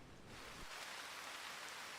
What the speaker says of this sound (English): it's raining and it's thunder